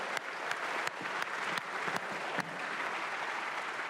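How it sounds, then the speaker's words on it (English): An audience at a Latin American panel event applauds a president, steady clapping across the room with a few sharper claps standing out, moderately distant and without speech. "applause for this president."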